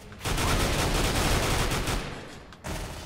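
Loud gunfire in Counter-Strike: Global Offensive on Xbox One, a continuous dense roar of shots that holds steady for about two seconds, drops briefly, then resumes close and heavy.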